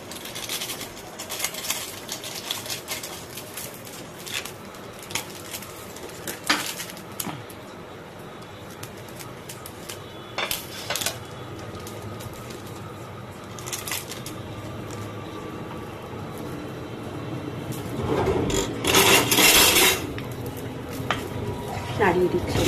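Maggi noodles with their masala being stirred in a pot of water: irregular scraping and clattering strokes with quieter gaps between, and a louder, busier burst of stirring near the end, close by.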